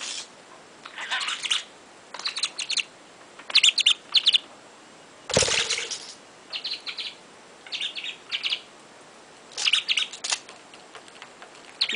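A pet talking bird chirps in a series of short, bright tweets and calls. They come in quick clusters with brief pauses between them, close and clear with no talking.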